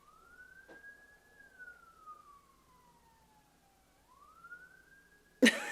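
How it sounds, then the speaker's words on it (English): A siren wails in a slow rising and falling sweep, steady and moderately distant, swelling slightly over several seconds before a sudden loud bump at the end. "those sirens are getting louder"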